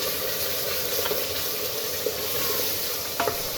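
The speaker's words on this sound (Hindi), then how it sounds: "ये जो है हमारी कढ़ाई है, इसमें फ्राई किया थोड़ा सा घी डाल के, और ये हमारे कोफ्ते बेहतरीन से फ्राई हो गए" Kofte frying in a little ghee in a kadhai, a steady close sizzle with light stirring scrapes and occasional soft pops, no voices.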